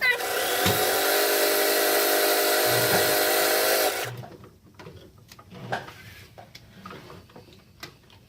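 A sewing machine stitches a homemade snow goose decoy with black thread, running steadily and loudly for about four seconds before stopping, followed by faint handling clicks and rustles.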